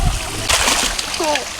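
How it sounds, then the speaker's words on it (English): Pond water splashes close by in a quick burst, then a few smaller sloshes follow while a voice talks over it. "Oh, you splashed me."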